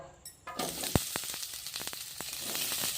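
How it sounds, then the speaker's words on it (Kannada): Onions frying in cold-pressed groundnut oil in a pan, a continuous close sizzle broken by sharp spatula clinks and scrapes against the metal. "ಕೆಂಪು ಗೋಲ್ಡನ್ ಕಲರ್ ಬರುವವರೆಗೂ ಫ್ರೈ ಮಾಡ್ಕೋಣ ಈರುಳ್ಳಿ."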